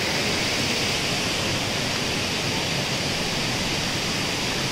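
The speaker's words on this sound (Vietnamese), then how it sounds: "Ui, xuống đây một cái thác cao rồi nè." A tall waterfall at Thủy Tiên falls roars as a steady, loud, dense rush of water, continuous and close with no pauses and no voices.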